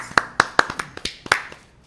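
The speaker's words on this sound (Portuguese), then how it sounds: "Seja muito bem-vindo, uma salva de palmas." A few people clap for a guest professor at a sports talk event, sparse, close, distinct hand claps in an uneven rhythm, about eight sharp slaps over two seconds with no talking.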